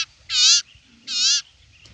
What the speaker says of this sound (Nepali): चरा चाहिँ कराउँछ है।